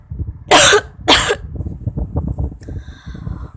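A girl coughs twice in quick, harsh bursts from cigarette smoke, loud and close, followed by a low murmur of background sound.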